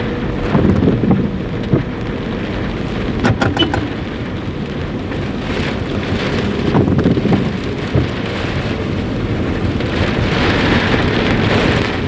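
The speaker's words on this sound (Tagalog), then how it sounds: "still raining April 11." Steady heavy rain pours during a typhoon on April 11, hissing continuously over its whole length, with a few sharp drip or tap sounds close by and gusty swells but no voices.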